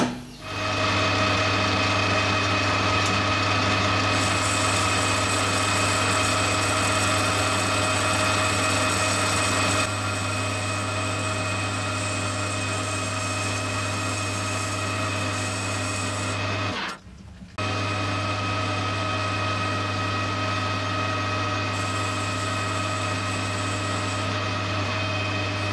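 A lathe takes a preliminary boring cut inside the cylinder bore of a small Titan .60 glow plug engine, a steady close machine whine with strong tonal hum that runs continuously, briefly dropping out near the end before resuming.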